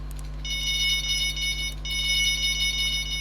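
High electronic beeps from a fishing bite alarm sound in two sustained bursts over a low steady hum, fairly close and piercing.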